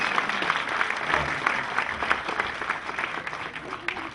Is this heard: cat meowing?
no